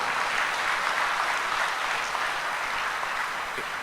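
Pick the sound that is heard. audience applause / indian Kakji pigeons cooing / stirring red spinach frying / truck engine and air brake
audience applause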